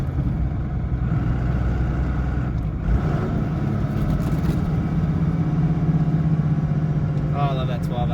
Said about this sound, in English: Oh, I love that 12 valve sound.